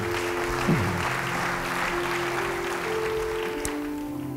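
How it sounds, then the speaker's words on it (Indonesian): A church congregation applauds together as a round for God during a sermon, a steady wash of many hands clapping at even strength throughout, with a few brief tonal sounds mixed in. "Beri tepuk tangan buat Tuhan"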